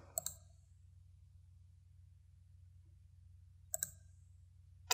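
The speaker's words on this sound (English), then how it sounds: "Type in your file name and click on the Save button." Computer mouse clicks while working in Microsoft Visio 2013 software: a couple of sharp double clicks near the start, another pair near the end and a final click, set against a low steady hum with long quiet gaps.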